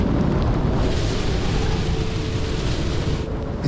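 Storm-force wind gusting 50 knots roars and buffets the microphone steadily, with a broad rushing noise and no speech.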